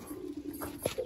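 Madrasi and Malwai pigeons cooing at a sale, giving a short soft coo near the end of the clip over a quiet background hum, with no talk.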